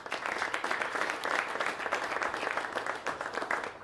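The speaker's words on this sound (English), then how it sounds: "Let's give them a round of applause, please." Crowd giving a round of applause for officials, including the mayor of Castle Pines, at an event ahead of the BMW Championship golf tournament: steady, dense clapping that holds evenly throughout.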